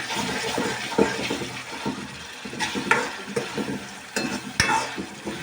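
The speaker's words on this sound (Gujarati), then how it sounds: "હવે આપણે એને હલાવીશું" Chicken bhuna masala with ginger garlic paste being stirred in a small kadai, a steady close sizzle broken by scraping spoon strokes and a few sharp knocks, with no talking.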